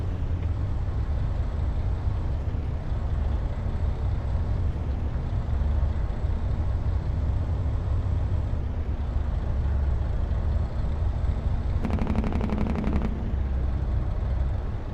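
A truck's Jake brake drones through engine braking in Farming Simulator 25, a steady low throbbing rumble for a long stretch, with a brief rattling burst near the end.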